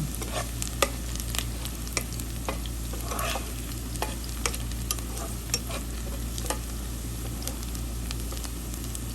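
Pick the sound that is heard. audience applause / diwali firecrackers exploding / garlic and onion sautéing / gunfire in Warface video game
garlic and onion sautéing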